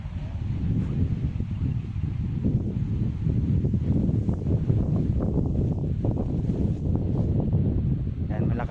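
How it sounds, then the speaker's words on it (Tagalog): Strong wind buffets the microphone with a constant low roar and rumble outdoors in a vegetable garden, while a voice talks faintly in Filipino underneath. "Lakas ng hangin dito."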